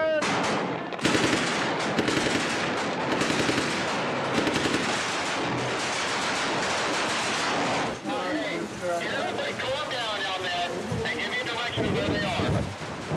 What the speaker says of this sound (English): Return fire, suppress.